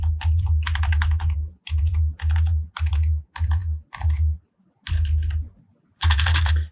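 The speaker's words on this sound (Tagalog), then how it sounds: "So far, maganda naman ang tunog ng mga keys. Feels like" Typing on a Zeus K007 87-key budget keyboard with mechanical-feeling plastic keys: bursts of quick, crisp clacking strokes close up, separated by short pauses, with a louder final flurry.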